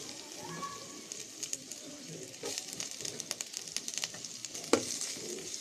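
Green chili paste frying in oil in a kadai for a rui fish curry, a soft crackling sizzle with scattered sharp pops and spatters, one louder crack near the end, heard close with no talking.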